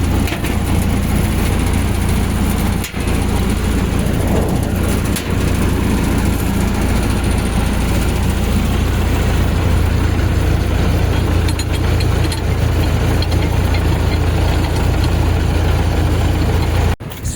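A farm machine's engine idling loudly with its auger running, a steady heavy rumble and rattling churn that goes on unbroken, with a couple of sharp knocks.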